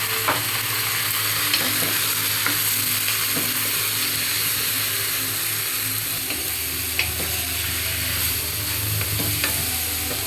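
Chicken pieces and onions sizzle and fry steadily in a hot pan for Filipino tinola, with stirring scrapes and clinks of the utensil against the pan throughout, loud and close, with no talking.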